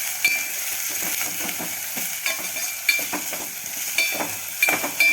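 Peanuts and onions frying together in a pan, a constant close sizzle broken by frequent scraping and clinking strokes of a spoon stirring, with no voices.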